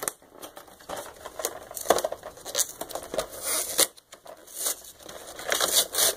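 Cardboard box torn open by hand, a run of sharp ripping and crunching bursts with brief pauses between tears, close and fairly loud.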